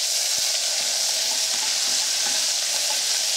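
Ginger, chillies, lemongrass and garlic sizzle hard in a hot pan for a satay sauce, a loud steady hiss of frying with faint stirring knocks underneath and no voices.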